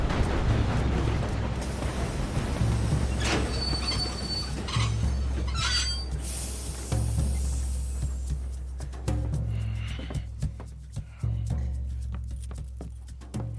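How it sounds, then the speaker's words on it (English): A train in Red Dead Redemption 2 with its wheels squealing on the rails, a thick, loud rumble of rolling stock carrying thin, high-pitched metallic squeals and scattered clanks that gradually ease. "Time to start this train again."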